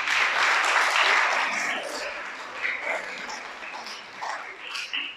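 A church congregation applauds during a sermon, a full burst of clapping that gradually thins into scattered claps, with faint voices mixed in.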